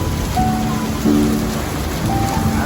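Steady, heavy rain from Typhoon Carina patters on a surface, a dense continuous hiss with faint tonal hum in the background, close and loud.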